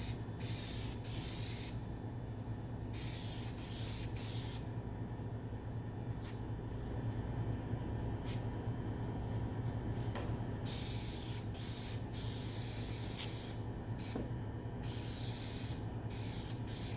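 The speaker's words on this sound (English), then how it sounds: "Adjust how much spray comes out of the can by twisting the cap." A can of spray adhesive hisses steadily as glue is sprayed onto a laminate wall panel. The spraying runs in long continuous bursts with short gaps between them, close and fairly loud, with no talking.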